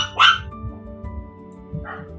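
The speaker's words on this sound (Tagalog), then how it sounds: "My dogs are so noisy." A pet dog gives a sharp close bark near the start and a softer yip toward the end, set against a low steady room hum with faint background murmur; no one speaks.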